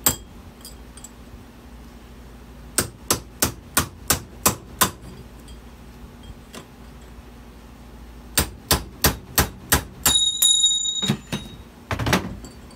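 A hammer taps a boat trailer's wheel bearing seat clamped in a vise: a run of seven sharp metallic strikes, a pause, then five more, followed by a ringing clang and a few scattered knocks, all close and loud.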